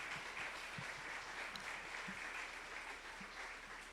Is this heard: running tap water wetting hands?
no